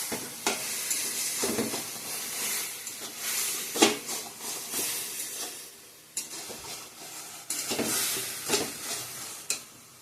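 Spiced food being sautéed in a pan for a Bengali dish, a continuous sizzle and hiss broken by repeated scraping stirs of a spoon against the pan, close and fairly loud with no talking.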